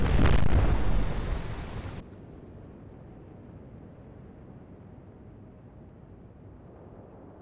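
Heavy guns of a warship and escorting destroyer fire in the Atlantic Fleet naval game, one loud broad blast with a rumbling tail that fades into a long low roar of sea and ambience.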